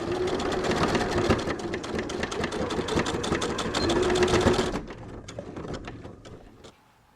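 A sewing machine stitches a folded shirt front placket for family cruise outfits in a fast, even mechanical rattle. It runs loud and continuous, then stops, leaving a few quieter clicks and handling noises.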